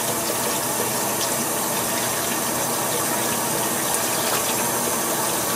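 Warm water running hard from a tap while plastic figure parts are cleaned with dish soap, a loud, dense, unbroken rushing gush with no talk.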